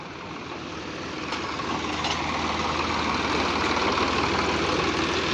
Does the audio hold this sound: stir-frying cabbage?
no